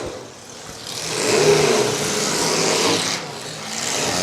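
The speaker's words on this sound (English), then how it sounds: "Still got these last 4 pickup trucks left running." Pickup trucks at a county fair demolition derby rev their engines, a mid-pitched motor sound that rises and falls across several swells and stays moderately loud, with no talk over it.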